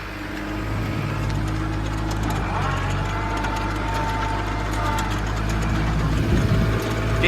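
A tractor engine ploughs a dusty field, its loud steady drone dipping in revs as the load bites, close up throughout the clip with a low rumble and some mechanical knocking.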